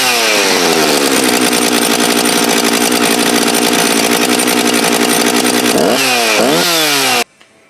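Husqvarna 357xp chainsaw with a throttle hesitation, running loud and close with a sustained high engine whine, then a couple of quick revs near the end before cutting off abruptly.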